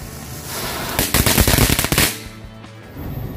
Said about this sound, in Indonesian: Yang selanjutnya kita nyalakan mercon pretek ukuran jumbo guys.